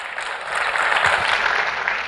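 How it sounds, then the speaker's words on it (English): A crowd claps at a presidential speech in Arizona right after union labor is praised, a dense wash of applause that swells after the first half second and holds steady, fairly distant and with no talk over it. "you can clap for that."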